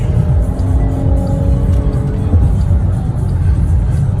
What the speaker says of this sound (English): Can't catch up to that damn Charger. This guy's speeding. That Hellcat speeding.